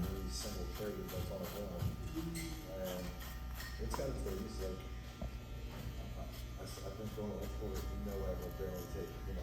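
Electric hair clippers buzz steadily through a skin fade haircut, a continuous close hum running under a man's speech throughout.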